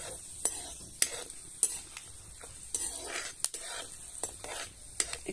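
Whole cloves and lightly crushed black peppercorns frying in hot oil in a pan, a soft steady sizzle broken by sharp clicks of a utensil stirring against the metal, with no voices.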